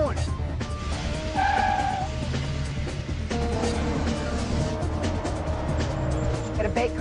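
A car in a police drama, a rigged bait car, peels away fast with a sharp tire squeal and a rising engine roar, while tense voices shout over the noise.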